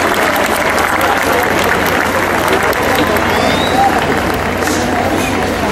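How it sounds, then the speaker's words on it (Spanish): Loud, sustained crowd applause and cheering at the closing of the Feria Nacional de la Plata in Taxco, a dense unbroken roar of clapping with general hubbub throughout. "Más fuerte ese aplauso que se escuche"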